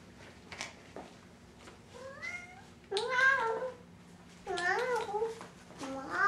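A cat gives several clear, rising-and-falling meows in succession, close and fairly loud, mixed with a young child's babbling.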